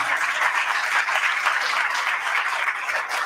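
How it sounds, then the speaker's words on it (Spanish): A concert audience at a charity event applauds a foundation, producing a full, continuous wash of clapping that holds at an even level without letup. "Un aplauso muy fuerte para la Fundación"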